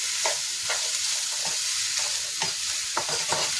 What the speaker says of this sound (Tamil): பூண்டு, பச்சை மிளகாய் எல்லாத்தையுமே போட்டுக்கலாம். போட்டுட்டு இது நல்லா வதங்கணும்.